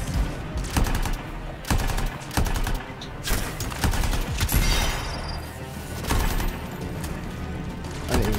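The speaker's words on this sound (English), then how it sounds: "I just shot in the air automatically after I died." Gunfire in the video game Anthem comes as repeated loud bursts of rapid shots with short gaps between them, dense and close throughout.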